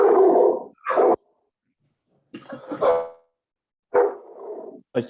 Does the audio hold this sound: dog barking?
yes